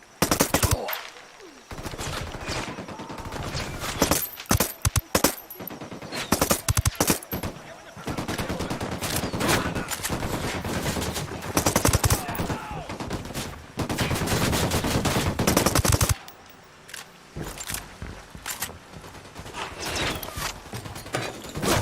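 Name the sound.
gunfire in the video game Ghost Recon Wildlands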